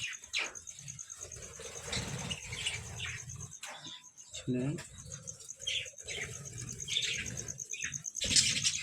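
Budgerigar chicks in a nest box give thin, high chirps and squeaks close by. Soft handling noises and a low voice come and go between the calls.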